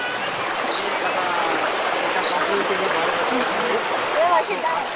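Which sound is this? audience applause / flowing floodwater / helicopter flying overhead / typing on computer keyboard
flowing floodwater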